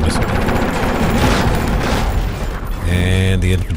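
Infantry gunfire in the video game Armor Alley: a dense, continuous crackle of rapid shots and bursts filling the clip, loud and close, with a steadier tonal engine-like hum joining near the end.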